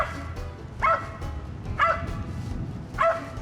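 A hunting dog sits at the base of a tree where a squirrel is treed and barks three times at moderate distance. The barks are spaced about a second apart, with quiet outdoor ambience between them.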